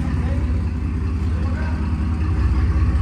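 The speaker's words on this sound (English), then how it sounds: "But just check out this exhaust." A dropped pickup truck's engine rumbles through its exhaust at a steady, loud, deep idle that holds for several seconds, close by.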